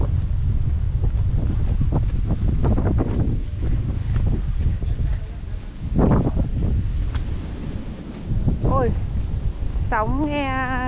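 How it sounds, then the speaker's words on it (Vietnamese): Ocean waves on a beach in Luanda, Angola, a continuous rumbling wash of surf under heavy sea wind buffeting the microphone, with faint voices and a brief whistle-like tone near the end. "Sóng nghe"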